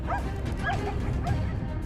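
Hunting dogs on a wild boar hunt give several short yelping barks and whines, somewhat distant, over a steady rushing outdoor background.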